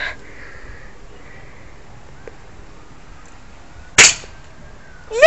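A single sharp air rifle shot fired outdoors at a deodorant can target, one brief crack near the end against a quiet, faintly hissing background.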